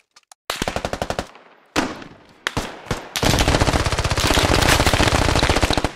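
Machine gun fire in the Squad video game: several loud sustained bursts of rapid automatic shots separated by short gaps, ending in one long continuous stream of fire.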